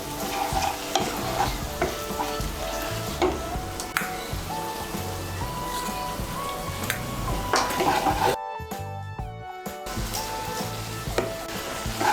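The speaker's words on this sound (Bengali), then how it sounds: "মশলাটাকে আমি আরেকটু ভালো করে কষিয়ে নেব" Spice paste being stirred and fried in a pan for egg biryani, a steady close sizzle with scraping stirs and occasional utensil clinks against the pan, running continuously with a brief drop partway through.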